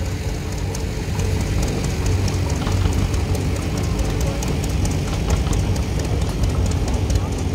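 A 1928 John Deere Model T tractor runs in a farm club parade, its engine putting out a steady, rhythmic chugging with regular ticks, heard at moderate distance with faint voices underneath.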